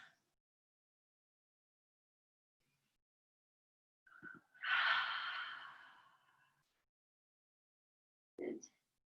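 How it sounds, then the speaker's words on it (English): Slow, deep exhalations during a relaxation exercise, one long soft breath out after a brief intake, then quiet and another short breath near the end, faint and close. "And then just breathing. Again, nice, clear, potent breaths."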